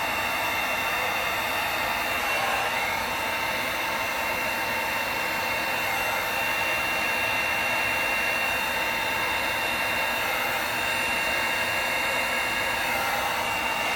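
A heat gun blows hot air on alcohol ink and epoxy from about six inches away, making a loud, constant hissing rush of air with a steady motor whine and no break throughout.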